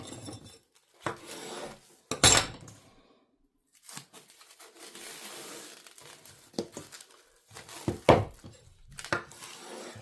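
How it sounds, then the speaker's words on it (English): Plastic wrap being pulled, torn and crinkled over a bowl holding a dough ball coated in oil, heard as sharp tearing bursts and soft rustles with quiet gaps between, close up and alone. "We'll cover this over with some saran wrap."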